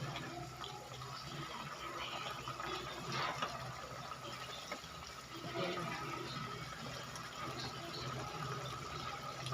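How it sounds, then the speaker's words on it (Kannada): A glass of water is poured into a pan of cooking agase pods, making a steady close splashing and trickling of liquid for several seconds, with no voices. "ಒಂದು ಗ್ಲಾಸ್ ನೀರು ಆ್ಯಡ್ ಮಾಡಿ ಚೆನ್ನಾಗಿ ಬೇಯಿಸೋಣ"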